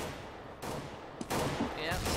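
Gunfire in CS:GO during a tournament match, an early entry kill in tunnels: a couple of sharp broadband shots and bursts that burst out of background noise, with commentators talking over them.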